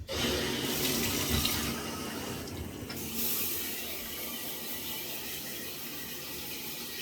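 Tap water runs steadily into a bathtub while a Melton wool hunt coat is rinsed, a continuous close splashing gush with no talk.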